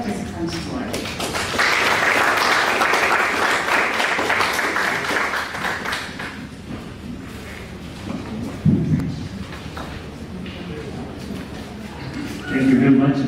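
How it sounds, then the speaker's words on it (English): Audience applause at a stakeholders meeting as a speaker comes forward, a steady roomful of clapping for several seconds that thins out, with a voice and room noise following afterward. "Let us give an applause to Dr. Robert as he comes forward."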